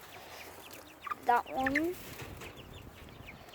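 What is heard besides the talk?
chickens clucking on an Australian farm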